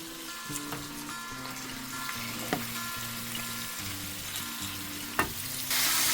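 Food frying and being stirred in a pan while a Javanese-style beef and potato stew is cooked: a steady close sizzle with repeated scraping stir strokes and a few sharper clinks, no talking.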